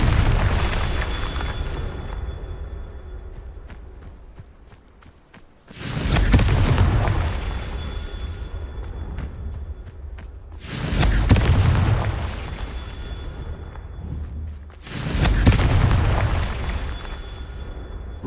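Confringo explosion spells cast in a Harry Potter video game, four heavy booming blasts spaced a few seconds apart, each with a loud rumbling onset that slowly fades, no talking.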